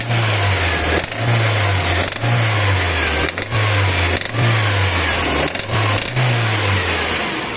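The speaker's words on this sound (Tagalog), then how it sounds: "I-rev ko, meron tayong maingay na nadidinig dito sa makina." Toyota Corolla engine with a misfire revved repeatedly, loud and close, surging in about seven even pulses with a rough, uneven note throughout.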